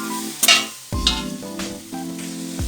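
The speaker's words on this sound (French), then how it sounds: "J'ai ajouté tous les ingrédients, je fais revenir à la casserole" Ingredients for chicken chasseur, including tomato, sauté in a saucepan with a steady close sizzle, broken by sharper bursts and stirring scrapes as the pan is worked, with no talking.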